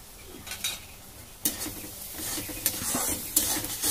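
Spices being stirred and sautéed in a pan for Bengali katla fish curry, a soft sizzle with intermittent spoon scrapes and clinks against the pot, close and fairly quiet.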